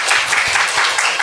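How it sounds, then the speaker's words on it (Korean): A church congregation at a Sunday service claps together in sustained, dense applause, loud and close, with no talk over it. "그렇게 하실 하나님께 박수 한번 올려드립니다."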